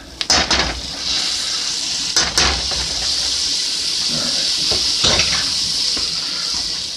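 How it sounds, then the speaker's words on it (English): Rehydrated mushrooms go into a pan of cooking risotto rice, giving a steady sizzle and bubbling with a few clinks and scrapes of a utensil against the pot, close and fairly loud. "I am also going to go ahead and add these rehydrated mushrooms in so they can start cooking with the rice"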